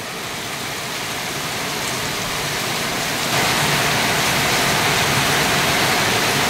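Heavy rain pours down on flooded streets in a dense, unbroken roar, with the downpour growing slightly louder partway through and no voices.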